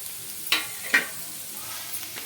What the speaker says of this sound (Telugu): ఇంకా అలాగే క్యారెట్ తురుము ఇంకా బీట్రూట్ తురుము రెండు వేసుకుంటున్నానండి ఒకటేసారి